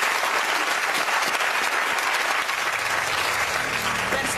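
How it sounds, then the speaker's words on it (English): A studio audience gives a sustained round of applause, dense and steady throughout at a constant level, with no talk over it. "Give him a round of applause."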